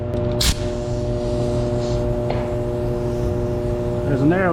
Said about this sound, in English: There's an air leak, but it's this right here.